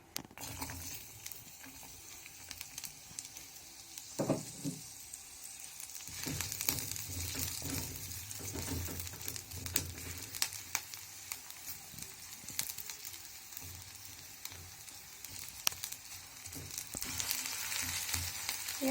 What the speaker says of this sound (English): We add onions.